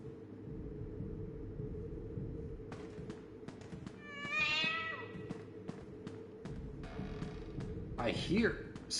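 A cat in Five Nights at Freddy's Into the Pit meows, one clear drawn-out mew midway and a sharper cry near the end, over a low ambient hum and scattered clicks.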